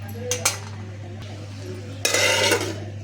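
A lid set down on a pan of oil with a couple of metallic clinks and clatters, close and fairly loud over a steady low hum.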